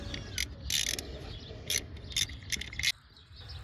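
Size 10 nuts being removed from the top and bottom of a Ford turbo vacuum solenoid, heard as a string of short, close metallic ratchet clicks and rattles in bursts over a quiet garage background.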